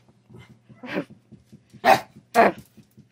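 Young Chinese Crested dog begging indoors: a soft whine, then two sharp, loud close barks spaced about half a second apart, with faint whimpering and small yips between them.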